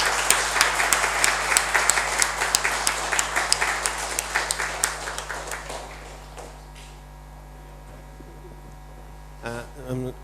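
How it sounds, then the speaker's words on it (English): A conference audience claps during a memento presentation at a GST conclave, a brisk burst of many hands that fades out after about six seconds, followed by low room hum and a brief voice near the end. "join with a thundering round of applause"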